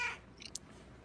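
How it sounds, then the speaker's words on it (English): A real cat gives a brief meow, then a short, faint chirp follows in a quiet room. "That's a real cat."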